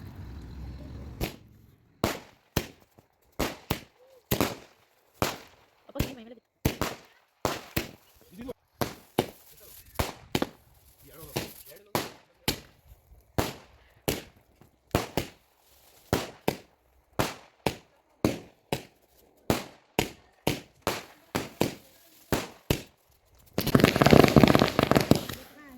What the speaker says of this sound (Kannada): ಪಟಾಕಿ ಎಲ್ಲ ಹೊಡೆದ್ರಿ.